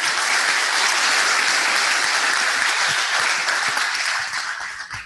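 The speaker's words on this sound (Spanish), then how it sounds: "permitan saludar con un caluroso aplauso a nuestro expositor de esta noche" A full audience breaks into warm, dense applause for the evening's guest speaker at a lecture on a coastal railway megaproject, holding steady before tapering off at the end.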